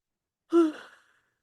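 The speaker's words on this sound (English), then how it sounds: "Take a deep breath in, exhale out." A single deep exhale out through the mouth during a breathing exercise, soft and close, a breathy sigh that fades within about half a second in otherwise silent surroundings.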